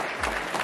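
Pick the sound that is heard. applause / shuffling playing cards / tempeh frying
applause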